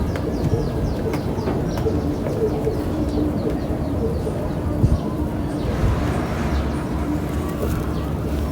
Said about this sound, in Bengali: দোপাস কবুতর